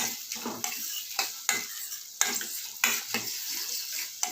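Onion and garlic fry in sesame oil as a spoon stirs the pan, a steady sizzle broken by repeated scraping strokes and light metal clinks at a regular rhythm.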